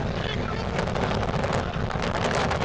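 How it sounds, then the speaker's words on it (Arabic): Strong wind buffets the microphone at a football pitch, a loud, continuous rumbling roar with gusty fluctuations that covers the whole moment. "رياح قوية خلال هذا الشوط الأول لصالح الحسنية"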